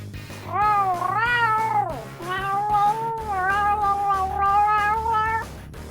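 A cat in the 1990 game King's Quest V lets out a long, drawn-out wailing meow, then a second sustained yowl after a short break, loud and close over a low hum.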